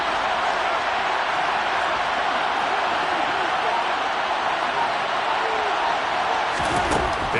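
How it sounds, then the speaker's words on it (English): A large football stadium crowd in a Rams versus Cowboys game keeps up a steady, dense roar building ahead of a big third down, loud and continuous throughout. "The crowd getting into it as we come up on a big 3rd down."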